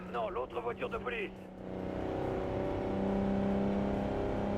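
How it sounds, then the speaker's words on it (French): A police car in the video game Pursuit Force drives past, its engine rising into a loud, steady whirring roar after a brief stretch of someone talking at the start. "l'autre voiture de police."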